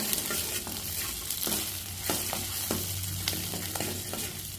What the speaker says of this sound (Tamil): சின்ன வெங்காயம் சேர்த்துக்கலாம் சேர்த்துட்டு நல்லா வணக்கி விட்டுக்கணும்